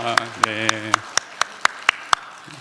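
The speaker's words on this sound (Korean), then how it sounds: "박수하겠습니다." In a church, rhythmic clapping rings out as sharp, evenly spaced claps in a steady beat, with a brief voice sounding at the start.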